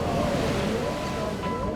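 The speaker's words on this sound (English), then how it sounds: "heavy wave breaking over a sharp, shallow ledge" Heavy ocean waves break over a sharp, shallow reef ledge at a surf contest, a steady loud wash of surf and spray roaring close with wind noise and no speech.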